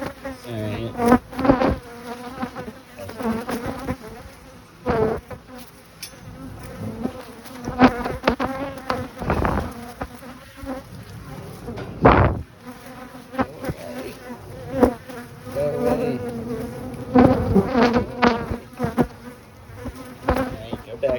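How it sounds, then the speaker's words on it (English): Bees buzz busily around a beehive at an apiary, a dense, continuous drone with individual insects swelling louder as they pass close to the microphone. "go back, bees. Come on, go back home."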